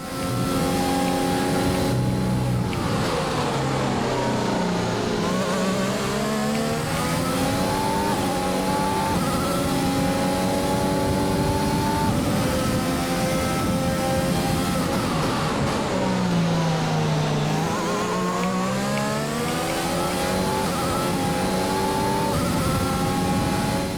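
Race car engines roar continuously around the Bahrain circuit in a racing video game, with loud rising and falling revs as the cars accelerate and shift down the straights, the pitch sweeping up and dropping twice.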